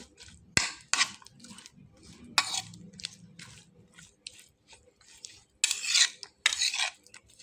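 Puffed rice being mixed by hand with mustard oil and masala for jhal muri, with soft rustling squishes and crunchy stirring in uneven bursts, close and fairly quiet, a few sharper clattering moments.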